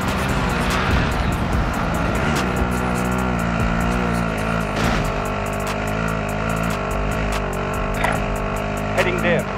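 Car driving in Call of Duty: Modern Warfare, a steady droning engine hum holding at constant loudness throughout, with faint clicks and thumps on top and no clear passes or revs.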